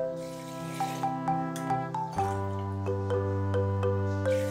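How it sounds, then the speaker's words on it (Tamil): Plain water poured by the cup into a pot for mutton biryani, with splashing and a run of dripping plinks over a steady tonal hum. "சாதா தண்ணி 3 கப் ஊற்றிடுறேன்."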